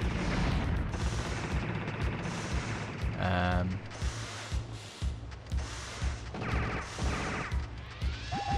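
A turret firing in the Ghost in the Shell PlayStation 1 video game, rapid mechanical gunfire bursts and clanking hits, fairly quiet beneath a pulsing game soundtrack.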